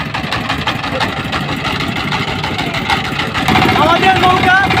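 A wooden boat's engine chugs along slowly on the Jamuna River near the Jamuna rail bridge, a steady, close, low throbbing drone that swells slightly louder toward the end.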